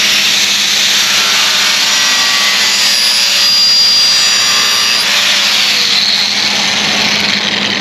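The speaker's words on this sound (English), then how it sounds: "That is a very, very good power tool for doing this kind of stuff" A power tool cuts through fiberglass with a loud, continuous, rasping whine that holds steady from start to finish.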